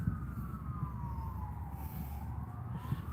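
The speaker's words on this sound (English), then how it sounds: "I hear a siren." A distant emergency vehicle siren wails in a slow rising and falling sweep, faint and far off beneath a steady low outdoor rumble near railroad tracks.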